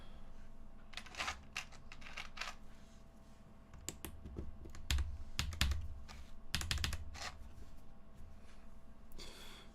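Keycaps on a custom 65% mechanical keyboard clacking under bursts of typing, crisp close key strikes in irregular flurries with short pauses between runs.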